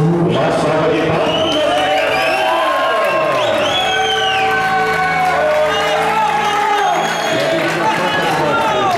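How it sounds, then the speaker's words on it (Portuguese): Loud crowd at a surprise birthday celebration in Vila Sabrina, north São Paulo, cheering, whooping and shouting continuously, with clapping and excited voices mixed throughout. "Uma salva de palmas."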